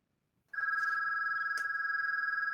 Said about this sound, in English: Let me just turn off the ringer.